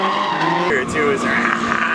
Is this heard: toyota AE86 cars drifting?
yes